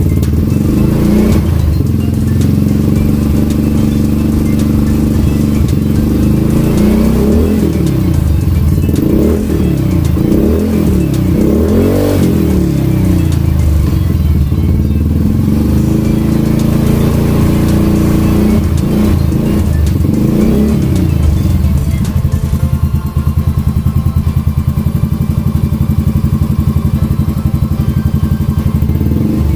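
A motorcycle fitted with a CLD Racing exhaust idles steadily, then takes a few gentle blips of throttle that swell and settle back; the engine note is close and continuous throughout, with no voices.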